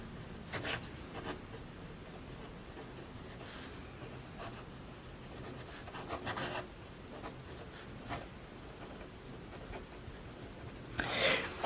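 A Kaweco Sport fountain pen writing on paper, quiet scratchy nib strokes in short irregular bursts with pauses between words, close up, ending in a louder scrape.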